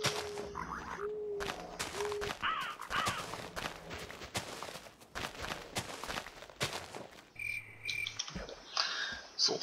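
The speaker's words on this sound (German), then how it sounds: "Oh, ein Rabe." A raven caws repeatedly in the Minecraft Tekkit modpack, its harsh croaking calls coming in short bursts over busy in-game sounds.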